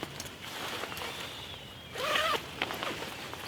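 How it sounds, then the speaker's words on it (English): A two-way zip on a bivy bag is drawn open in one short, rasping pull, fairly quiet against a soft background hiss indoors. "It appears to have a two-way zip."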